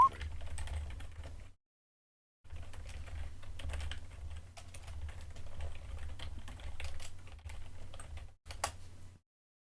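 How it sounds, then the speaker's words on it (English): Fingers type steadily on a computer keyboard in soft, rapid clicking runs with a short pause partway through, close but quiet over a low hum. "I apologize if you hear typing"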